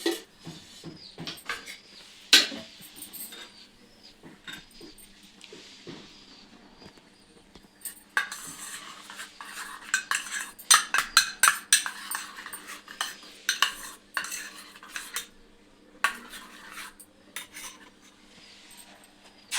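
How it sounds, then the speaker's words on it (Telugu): Eggs for an omelette are beaten in a bowl with a utensil, producing bursts of quick clinking and scraping near at hand, with a quiet pause before and a busier, louder stretch of rapid strokes later, and no voices. "ఇది మంచిగా కలపాలి ఎగ్గుని"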